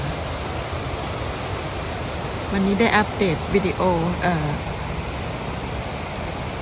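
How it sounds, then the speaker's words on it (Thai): A waterfall in Ticino gives a steady, even broadband rush of falling water throughout, with someone speaking briefly over it midway. "ก็มีเสียงน้ำตกทุกคนค่ะ"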